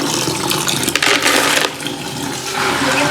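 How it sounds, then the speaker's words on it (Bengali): Water rushes and splashes over aquarium stones being rinsed, a continuous loud wash with a brief clattering surge in the middle, close by and without speech. "এখন হচ্ছে পাথর ধুবো।"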